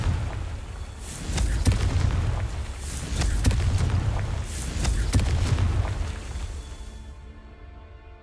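Repeated magical blast spells from the Hogwarts Legacy video game boom out in rapid succession, loud, deep explosive bursts with crackling sharp pops layered over a continuous rumble that fades away at the end.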